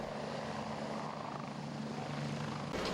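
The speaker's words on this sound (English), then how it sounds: "the Life Flight helicopter made an appearance" A Life Flight medical helicopter drones steadily from start to finish, its engine and rotor wash forming a continuous broadband roar with a low rhythmic pulse and no talking.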